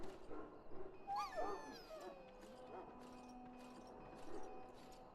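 A dog whimpers and yips in Dragon Age: Origins, a high wavering whine near the front over a low background hum, followed by a few fainter whimpers and soft rhythmic ambient noise.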